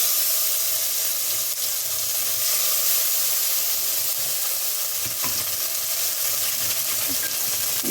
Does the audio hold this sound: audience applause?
no